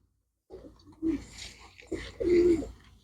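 Pigeons cooing close by, a green-eyed female kabootar among birds kept for sale, giving two bursts of low throaty coos separated by a short pause.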